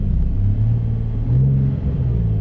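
Manual car engine revving from too much gas while pulling away, a steady low rumble rising and swelling in pitch at close range with no talk over it.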